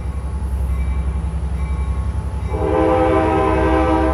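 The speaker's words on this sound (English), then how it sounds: "You just gotta love that beautiful horn sound of Port Arguella." An Amtrak F59PHI diesel locomotive on a San Joaquin train departs Oakland Jack London Square station, its engine rumbling before a loud, sustained multi-tone horn blast cuts in close by.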